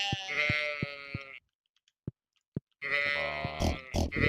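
Sheep in a barn in the farming video game Stardew Valley give two loud, close bleats with a short quiet gap between them. A few soft clicks fall in the gap.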